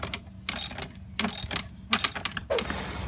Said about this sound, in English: On the left side, I just gotta loosen that bolt right there. So this is a 15mm bolt as well.